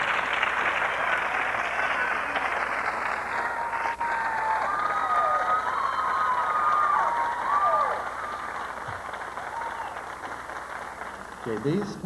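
Audience applause and cheering greet the top ten semifinalists at a 1989 Mrs Kentucky pageant, a dense, steady wash of clapping that holds for about twelve seconds before easing slightly near the end.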